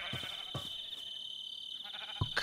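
Sheep bleat in a few short, faint calls spaced across the moment, set against a steady high-pitched whine in the background.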